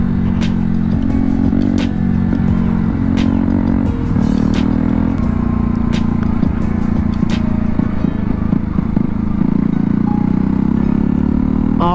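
A KTM Duke 125 motorcycle is ridden, its small single-cylinder engine droning loudly and steadily close to the microphone with shifting revs, wind rush and clattering road noise throughout.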